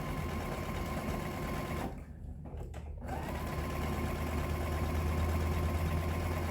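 A sewing machine stitches a rick rack table runner block, a fast steady hum of stitching that briefly stops as the fabric is repositioned, then carries on, close and alone.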